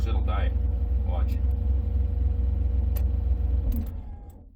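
A car with a faulty throttle position sensor idles with a steady low rumble, then the engine stalls and dies as it is shifted into reverse, with the noise fading out; someone talks over the idle.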